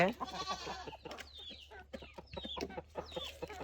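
Farm chickens cluck and squawk close by in quick, overlapping calls with sharp higher cries, a busy flock jostling over scattered grain, with no talk.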